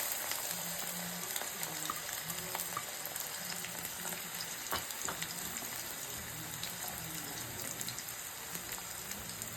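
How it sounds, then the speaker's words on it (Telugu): Chopped onions dropped into hot oil in a pan for a bitter gourd curry, a soft steady crackling sizzle at low volume, with faint low hum underneath and no talk. "నూనె కొంచెం వేడెక్కిన తర్వాత మనం తరిగి ఉంచుకున్న ఉల్లిపాయ ముక్కలన్నీ వేసి మగ్గించాలి"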